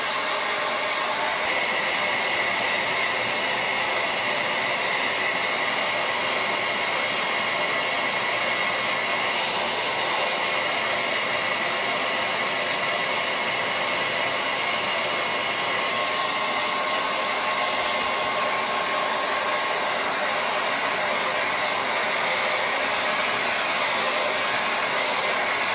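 A handheld dryer blows steadily and fairly loudly without a break as it dries paint on a pot before glitter goes on. The whooshing airflow holds an even drone throughout, with no voices.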